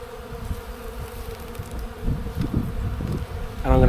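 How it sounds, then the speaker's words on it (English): Honeybees buzz loudly and continuously around open hive frames during an inspection, a dense close-up drone that swells toward the end. "There is 1, 2, 3, 4, 5, 6 or 7 full frames of bees."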